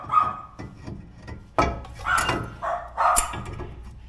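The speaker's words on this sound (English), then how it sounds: "Oh, there's another dog." A dog barks in short bursts somewhere outside a home garage during brake work on a Hyundai i20, several sharp yips and woofs at moderate distance over a few seconds.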